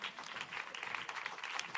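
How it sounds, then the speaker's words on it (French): A church congregation claps together in a brief, dense burst that sounds somewhat distant and soft, with no voices rising above it. "Applaudis le Seigneur qu'on est là,"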